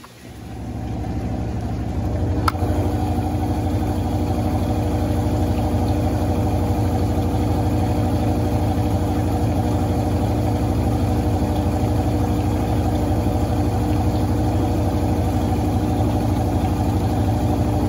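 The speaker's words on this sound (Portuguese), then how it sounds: "Centrifugação final, 750 RPM." An Electrolux Blue Touch 12kg LB12Q washing machine, loaded with bath towels, runs its final spin at 750 RPM, giving a steady, loud mechanical hum and rumble that holds constant throughout, with a brief click near the start.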